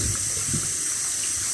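Tap water runs steadily over five sweet potatoes being washed by hand in a sink, a close, continuous splashing hiss with brief low thuds as the tubers are handled; no talking.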